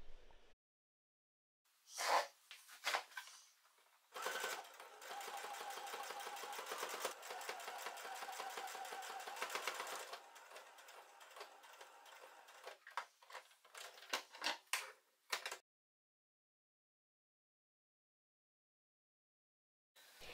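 Sewing machine stitching a sleeve opening about 1 mm from the edge, a fast steady mechanical chatter that runs for several seconds, then short stop-start bursts before falling silent, close and alone.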